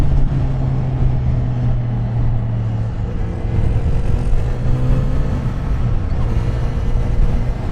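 A Kawasaki Z900RS motorcycle on its standard, Euro-regulation exhaust runs with a steady, low engine drone and rumble, fairly loud and continuous with slight swells, no talk over it.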